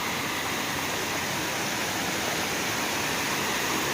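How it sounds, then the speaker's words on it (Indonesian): Kedung Kepyur waterfall in Pacet, Mojokerto, East Java, a dense steady roar of falling water, a constant hiss that stays even and unbroken. "Kedung Kepiur jenenge, air terjun Kedung Kepiur."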